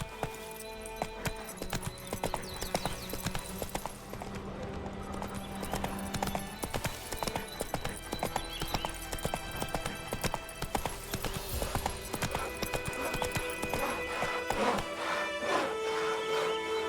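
Roach the horse trotting in The Witcher 3, a steady rhythmic clip-clop of hooves close by over game music and ambience, with a faint whinny.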